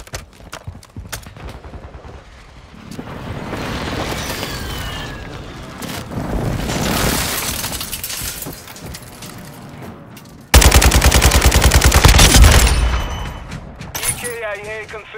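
Heavy gunfire and booming precision airstrike explosions fill a Call of Duty: Modern Warfare II battle, with rattling shots, rumbling blasts and a loud sustained barrage near the end, under brief speech.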